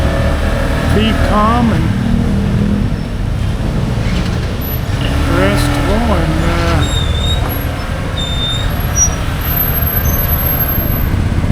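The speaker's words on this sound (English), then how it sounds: "you hear all that traffic at the time of day where the traffic's going in and out" Steady road traffic passing in and out of a busy area at a certain time of day forms a continuous, loud rumble, with a person talking over it throughout.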